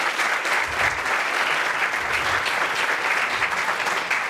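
A round of applause from an audience at a Brazilian anniversary event for a free-knowledge network, dense continuous clapping filling the room at a steady, fairly loud level with no speech.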